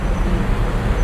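Heavy, congested road traffic in Bangkok, a dense low rumble of engines that holds steady and loud for a moment with no voices.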